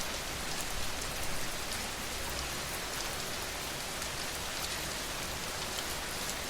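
Steady, gentle rain falls continuously on a surface, an even hiss of drops with no voices or thunder, constant in level from start to finish.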